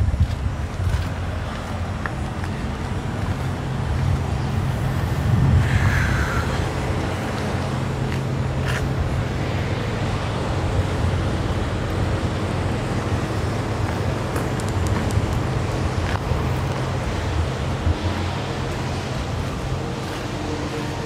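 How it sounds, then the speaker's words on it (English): Wind blows hard through a windy night on the road while trucking, a steady, loud, rumbling roar with gusts rising and falling and no voices. "Man, it's been windy tonight."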